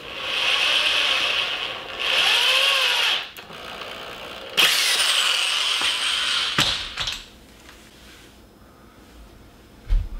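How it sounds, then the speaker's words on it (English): A power drill stuck at full throttle screams at full speed in long bursts, cutting out abruptly between runs, with scraping and clunks before fading to quiet. "my other drill loves getting stuck at full throttle and just destroying everything"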